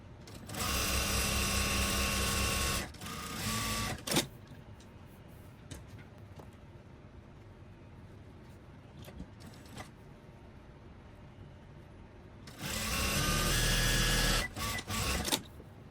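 A sewing machine stitches the side seam on a dog-clothes sleeve with bias binding attached, running in two loud bursts with short pauses at the start and end, quiet handling in between.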